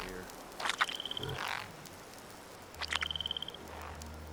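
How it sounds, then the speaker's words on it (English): Frogs in the Fallout 76 video game croak in two short rattling bursts of rapid pulsed calls, separated by a quiet gap, faint against soft ambient background. "Oh, frogs."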